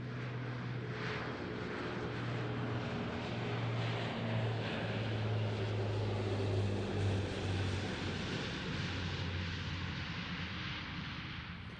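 A C-27J Spartan turboprop military transport flies a full aerobatic solo display at the RIAT 2024 airshow. Its loud, continuous engine drone carries steady propeller tones and swells slightly throughout, with no talk.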